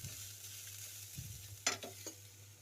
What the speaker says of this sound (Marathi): आता मी परतून घेते थोडंसं, 1 चमचा तूप टाकून.